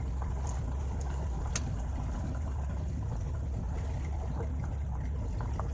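A car drives along the road to Zavadiv in the Yavoriv district, giving a steady, continuous rumble of road and engine noise with a few faint clicks and knocks and no pauses throughout.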